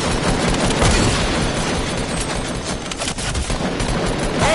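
Rapid, continuous gunfire from the video game Fortnite, with dense overlapping shots and bursts that stay loud and close throughout, and no talk.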